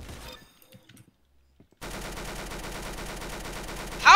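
Gunfire in the Roblox-style shooter Arsenal: a brief burst, near silence, then a sustained rapid automatic stream of shots that is loud and close and ends in a sharp louder crack.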